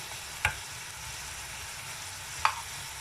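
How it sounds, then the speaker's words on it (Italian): Carrots, celery, onion and meat rolls brown in a pan with a steady, even sizzle, broken by two brief sharp crackles or clinks, close and moderately quiet with no talking. "Fate spazio alla carne in modo che anche lei si rosoli"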